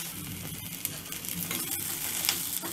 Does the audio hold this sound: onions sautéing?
yes